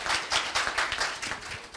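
An audience claps at the opening of a talk, a dense burst of many hands with a bright, close, rippling texture that holds steady across the short stretch.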